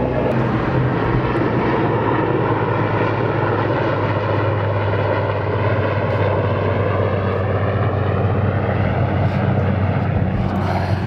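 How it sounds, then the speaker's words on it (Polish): A steady, loud engine roar of a helicopter passing overhead in the Canary Islands, droning continuously with a slowly shifting pitch, no voices. "Czekajcie, bo leci mi tutaj helikopter."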